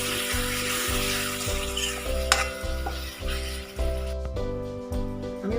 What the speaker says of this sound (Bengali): এবার সবজিটা একটু ভালো করে কষানো হোক।